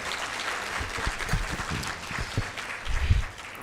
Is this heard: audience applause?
yes